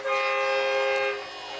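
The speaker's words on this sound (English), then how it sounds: "it can't be a football game without an air horn" Air horn at a high school football game, a single loud sustained blast that holds steady for about a second before dropping away, with faint crowd noise behind it.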